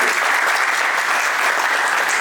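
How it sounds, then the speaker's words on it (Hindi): An audience gives steady, dense applause to welcome a Bharatanatyam dance performer at a 65th-year celebration in Lucknow, the clapping even and continuous from start to finish. "प्लीज एक बार हाथों, जोरदार हाथों से तालियों से स्वागत करिए"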